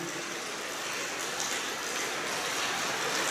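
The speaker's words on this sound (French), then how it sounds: "Il pleut énormément." Heavy rain falls at night outside a disused factory, a steady dense hiss of water pouring without break, close and fairly loud.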